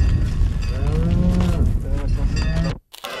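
Hardy Massif Central cattle moo loudly and repeatedly at a large livestock show in Cournon d'Auvergne, with long overlapping lowing calls close by that cut off abruptly near the end.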